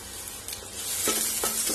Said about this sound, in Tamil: அதனால இந்த வெங்காயத்தை லேசா வதக்கிக்கலாம்.